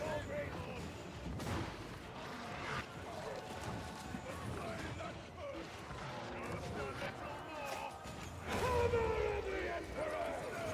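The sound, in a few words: frag grenade explosions and gunfire in Warhammer 40k Darktide video game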